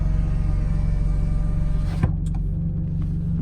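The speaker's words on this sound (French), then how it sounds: "regardez, je lève la vitre" A car's power window motor hums steadily under idling engine rumble, ending in a soft thump as the glass seals shut.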